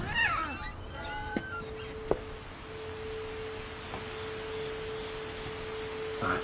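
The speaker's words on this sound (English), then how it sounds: "I heard a cat somewhere." A cat meows in the video game What Remains of Edith Finch, a few short rising cries at the start, then a steady tone holds under faint clicks with no talk.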